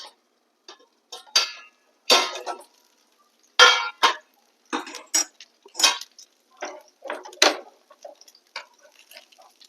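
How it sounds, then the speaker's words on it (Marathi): A metal lid lifted off a stovetop pan of potato batter pancakes, giving scattered clinks and clatters of cookware, sharp and close, with brief pauses between knocks and no talk. "दोन ते तीन मिनिटं झालेत आपण आपलं हे झाकण टाकलेलं काढूया"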